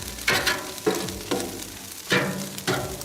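Shrimp and fried rice sizzle in a hot pan, with a steady hiss broken by several sharp bursts of stirring and tossing, close and fairly loud, no talk.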